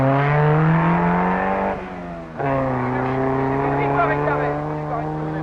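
Several big rally cars on the Nairobi marathon leg of a long-distance rally roar steadily at close range, engines droning loud with a brief dip in the middle as the note shifts, then holding strong again.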